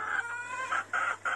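Several short, nasal calls from turkey poults outdoors come in quick succession, close by, each a brief rising cluck-like chirp with small gaps between.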